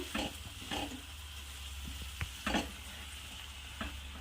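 Flat bean pods are stirred in a pan over a soft, steady sizzle, with a few distinct scraping strokes and light clinks of the spoon against the pan.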